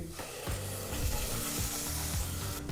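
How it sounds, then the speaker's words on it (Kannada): Ground masala paste sizzles in a pan over a low flame while being stirred for an aloo masala gravy. A steady, close frying hiss runs throughout, with rhythmic scraping strokes about every half second and no voices. "ಲೋ ಫ್ಲೇಮ್ನಲ್ಲೇ ಒಂದು ಎರಡು ನಿಮಿಷಗಳ ಕಾಲ ಮಸಾಲ ಪೇಸ್ಟನ್ನು ಚೆನ್ನಾಗಿ ಬಿಸಿ ಮಾಡ್ಕೋಬೇಕು"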